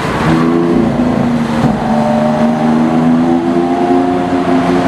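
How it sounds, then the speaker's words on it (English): Lamborghini Aventador supercar fitted with a DMC body kit drives past, a loud, steady engine drone with rising and falling tones held throughout, close by and with no talking. "the DMC Aventador is back"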